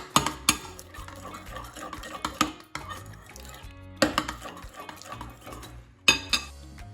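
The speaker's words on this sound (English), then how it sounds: "I'm going to stir that into my condensed milk" A spoon stirs strawberry puree into condensed milk in a bowl, scraping and clinking against the sides with a few sharper knocks, close and fairly loud, with no talking.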